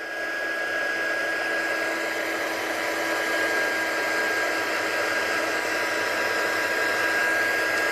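Embossing heat gun blowing hot air steadily and loudly for the whole stretch, a constant broadband whoosh with a faint high whine, no talk over it.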